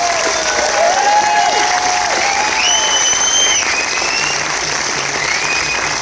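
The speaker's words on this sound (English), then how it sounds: "one more big round of applause for Antiquities" A theater audience applauds the film Antiquities at a Dances with Films screening Q&A: dense, sustained clapping from a large crowd, steady and loud for the whole stretch with a few faint cheers mixed in.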